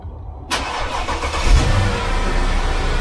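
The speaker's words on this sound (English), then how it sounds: "And that's it, the car started." A Mercedes ML550 engine cranks and fires up via remote starter after half a second of near quiet, surging briefly then settling into a steady close idle.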